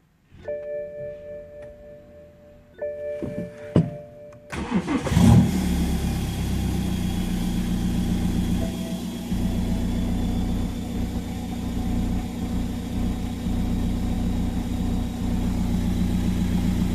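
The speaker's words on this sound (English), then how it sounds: "after that I'm gonna start the car" A BMW E90 being worked on for a DPF replacement: a few warning chimes and clicks, then the engine cranks and catches with a loud rev before settling into a steady, close idle.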